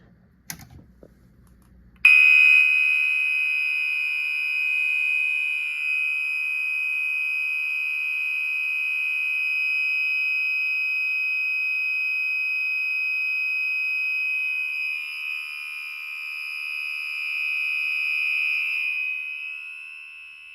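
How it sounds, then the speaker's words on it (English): After a brief faint noise, a fire alarm horn blares continuously as one loud, steady electronic tone that holds to the end. "It's always fun to hear alarms burn off power."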